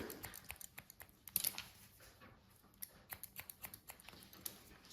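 Scissors trim hair during a pixie cut, giving faint, close, rapid snips in quick clusters against a quiet background.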